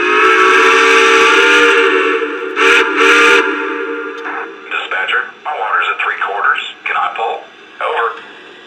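A model train's loud, sustained steam whistle blows for several seconds, then a few shorter toots follow in a broken rhythm, close and prominent.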